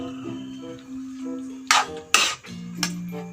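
A utensil stirs a large pot of buridibod vegetable stew cooked for twenty people, producing three or four sharp metallic clanks and scrapes at irregular intervals over steady background music.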